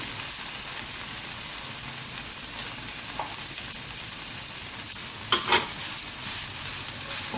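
Capsicum sautéing in a pan over a very high flame gives a steady soft sizzle throughout, with a couple of brief sharper crackles or stirring clinks near the end and no talk.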